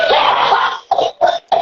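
A person coughs: a long rough hacking burst, then three shorter sharp coughs in quick succession, loud and close.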